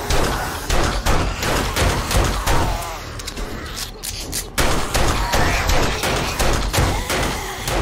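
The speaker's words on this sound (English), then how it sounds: "I can't really hear you guys over my gunfire." Dense, continuous automatic gunfire in the zombie survival game 7 Days to Die (Alpha 19.2) during a Blood Moon horde night, loud sustained bursts with heavy thuds and no pauses, no talk over it.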